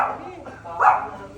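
A dog at a home in Bacoor, Cavite gives a short bark or yip near the middle, set against a background of household chatter and voices.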